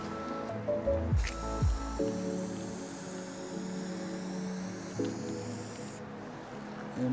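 A spray paint can fires through a Spre female fat cap in a long, steady hissing burst of several seconds, close and even, with a softer rattling and handling noise before and after it.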